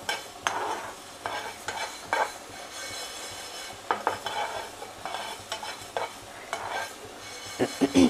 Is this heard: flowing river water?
no